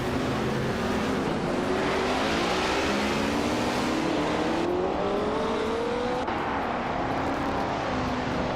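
A classic 1966 McLaren Elva Oldsmobile and other vintage race cars roar continuously with a steady engine drone, its pitch sliding upward as they accelerate, then shifting down and climbing again.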